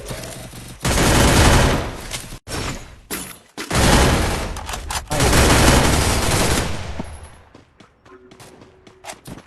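Rapid bursts of gunfire from a shooting video game, with sustained loud volleys separated by brief pauses, fading out near the end.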